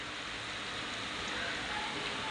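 Mushrooms and peas in a pan of sizzling Malvani masala, a dense continuous hiss of frying, close and loud throughout with no break.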